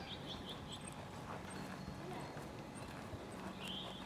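A horse walks during a riding clinic, hooves clip-clopping steadily at a slow pace beneath continuous background noise and talk, with faint bird calls.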